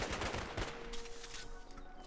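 Beckett's pistols firing in the video game Gigantic, a fast burst of rapid shots in the opening half-second followed by a decaying, echoing tail, loud and alone with no talk.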